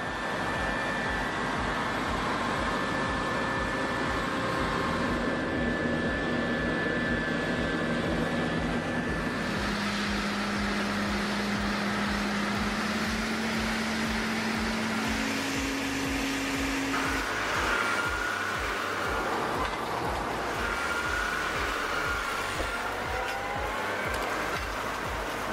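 A New Holland CR11 combine harvester with a 700-horsepower engine works through a wheat field, giving off a steady, loud mechanical drone with a whining tonal hum that persists unbroken throughout.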